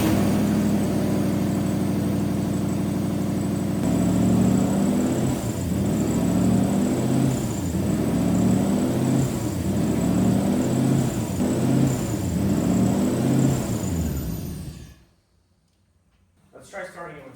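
An abandoned Lexus car engine runs at idle with a steady close rumble and a rhythmic surging pulse, then cuts out abruptly near the end before a brief noise returns.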